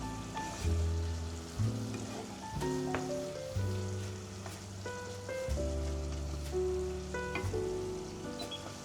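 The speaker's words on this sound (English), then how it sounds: "Minced meat roasted." Minced ground beef frying in a pan, a soft steady sizzle with light crackles, faint and close, with no talking.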